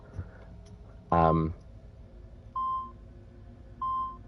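Two identical short electronic beeps sound a second apart in Assassin's Creed 2, clean and evenly pitched, following a brief louder burst of game sound.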